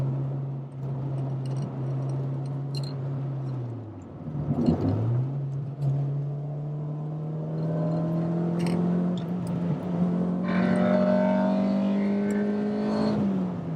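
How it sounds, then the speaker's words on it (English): Honda Civic VTi EG6 with a B16 DOHC VTEC engine accelerating hard, its note climbing through the gears with a brief dip before rising to a louder, sharper wail near the end. "That VTEC engages and it just gets twice as loud."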